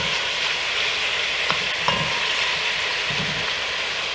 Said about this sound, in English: Okay, let's go ahead and brown this meat off